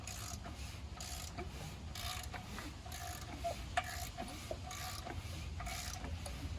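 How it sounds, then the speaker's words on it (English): GM 5.3 engine being rotated by hand during a rebuild, with rocker arms moving, giving a steady low mechanical ratcheting and clicking churn close by, with faint rubbing and occasional sharper ticks. "I'm just spinning the motor over. See the rocker arms moving."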